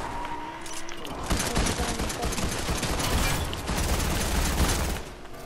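Rapid SMG gunfire in Fortnite, a steady, dense run of sharp shots rattling through almost the whole stretch, loud and close with scattered game effects mixed in.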